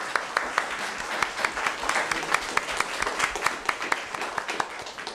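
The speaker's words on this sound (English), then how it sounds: "I'd like to ask at this time that we give all the candidates a round of applause." A crowd at a 2023 candidates forum applauds the candidates, a steady round of many hands clapping close by with a few sharper claps standing out, lasting throughout.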